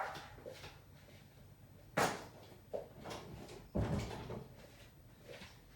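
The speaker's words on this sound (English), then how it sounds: "Let me close my door here." A door in a home office is pushed shut, giving a sharp thump followed by a second, heavier knock over a quiet room with faint background noise.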